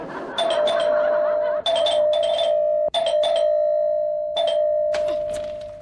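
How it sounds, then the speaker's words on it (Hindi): A doorbell rings loudly and insistently, its tone pressed again and again in quick succession with brief gaps, close and piercing. "इतनी जोर से घंटी क्यों बजा रहे हो?"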